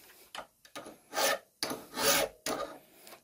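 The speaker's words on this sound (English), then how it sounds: "I'm going to use a file, but you could use a piece of sandpaper on a stick just to take the very edge off that" Metal file rasping along the sharp edge of a hand plane's lever cap, a series of short back-and-forth strokes, close and moderately quiet, with brief pauses between passes.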